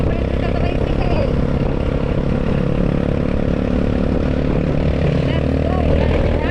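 A tricycle motor runs steadily close by with a constant droning rumble throughout, while voices chatter faintly underneath.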